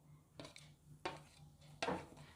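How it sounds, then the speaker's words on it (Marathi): Ingredients for a masala paste tipped into a small mixer grinder jar: three distinct clattering clinks of items dropping into the metal jar, close by, with quiet pauses between and a faint steady hum underneath. "वाटणासाठी मिक्सरच्या छोट्या भांड्यात सगळं साहित्य ॲड करायचं आहे."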